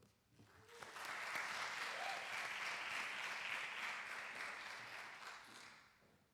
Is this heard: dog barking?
no